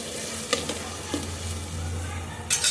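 Close, steady frying sizzle from a spice mix in a pan, with a few stirring knocks and scrapes, then a louder burst of sizzle near the end; no speech.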